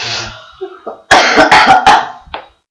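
A person coughs hard several times in a quick burst, loud and close, after some brief throat sounds.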